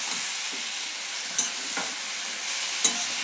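Powdered spice mixture being stir-fried in a pan for a vegetarian dish, a steady close sizzle with a few soft spoon scrapes over about three seconds, no voices.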